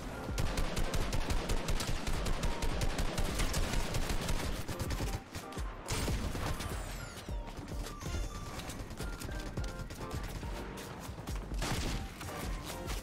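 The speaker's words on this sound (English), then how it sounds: "Stop firing at us, bro." Dense gunfire from the video game Fortnite, heard as a relentless, loud spray of rapid shots that dips briefly near the middle before resuming as a steady barrage, with no talking.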